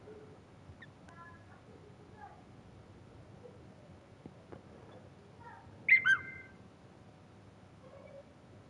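Message notification alerts on a phone play as a quick pair of bright bird-whistle chirps, set against quiet room tone with faint scattered chirps beforehand.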